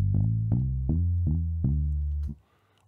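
A bass line made in FL Studio for an old-school style beat. Five evenly spaced, deep, sustained bass notes play alone with a small change at the end, then cut off abruptly.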